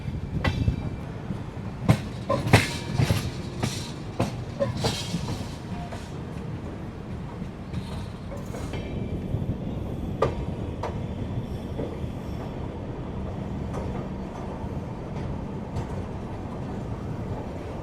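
Rajdhani Express train arriving at Badarpur junction railway station, wheels rumbling and clattering steadily over the rails with sharp metallic clanks and squeals early on, continuous and fairly close throughout.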